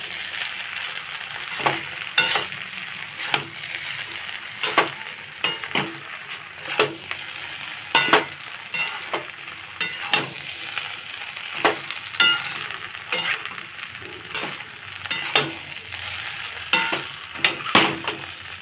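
Pasta being stirred with sauce in a pan over a low flame, with repeated sharp scrapes and clinks of a utensil against the pan at an irregular rhythm over a soft, steady sizzle, close and alone.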